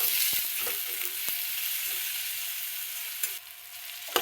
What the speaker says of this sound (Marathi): अजून जरा तेलात चांगलं फ्राय होऊ द्यावं